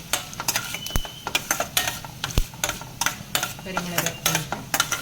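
Cumin and coriander seeds frying on a low flame, with rhythmic clinking and scraping of a spoon against the pan over a soft, steady sizzle.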